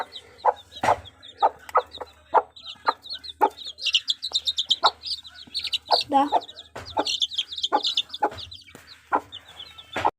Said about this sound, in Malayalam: ഇതാണ് നമ്മൾ കൂട്ടിൽ അടച്ചിട്ടേക്കുന്ന കോഴി വലിയ കൂടാണ് ഇത്